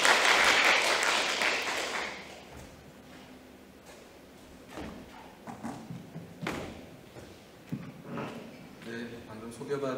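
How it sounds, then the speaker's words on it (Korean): Audience applause at a Seoul forum on large and electronic waste, a loud burst of clapping for the next presenter that fades after about two seconds, followed by scattered thumps and room noise. "큰 박수 부탁드립니다."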